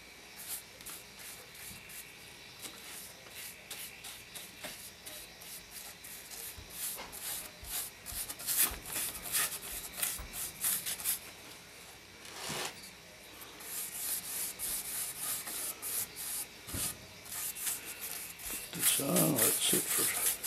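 Red mahogany wood stain is rubbed onto a wooden clock case, a soft continuous close-up swishing and wiping that swells and eases over about twenty seconds, with faint background noise.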